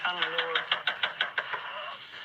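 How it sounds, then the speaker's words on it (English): Rapid pounding knocks on a neighbor's front door on a porch during a frantic emergency, a quick even run of about eight hard blows under and after a speaking voice, then fading to background. "Pounding on the door."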